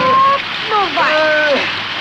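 Rain falling in a 1970 Brazilian film scene: a steady broadband hiss of rainfall fills the background while a voice speaks over it in short, rising and falling phrases.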